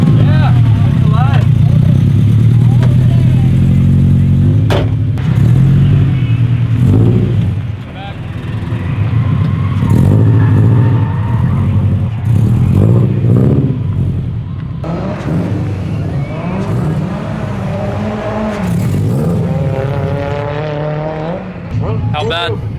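A wrecked drift car's engine runs loud and close, revving and idling with rising and falling tones, while people talk over it throughout.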